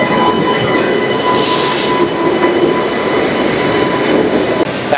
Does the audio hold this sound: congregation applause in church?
no